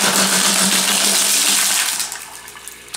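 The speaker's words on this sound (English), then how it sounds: "So we're just going to dump these in here." Crazy lace agate stones are dumped into a plastic colander, giving a loud, dense clatter of many rocks pouring for about two seconds, then a few scattered settling clicks.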